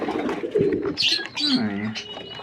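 A pigeon coos softly and close by in a low, throaty warble during night feeding on chickpeas, with a person's voice alongside.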